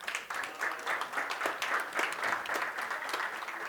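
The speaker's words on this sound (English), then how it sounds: "Let's give them a round of applause" An audience applauds a panel of AI founders at a conference, a dense, steady patter of many hands clapping that holds for several seconds without any speaking over it.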